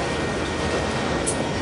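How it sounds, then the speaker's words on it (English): A train rolls along railroad tracks beside a street during an outdoor spring equinox event, a steady broadband rumble sustained throughout at close range with no talk. "next to the lovely railroad tracks, and hopefully we won't get too interrupted by the blaring of the horns"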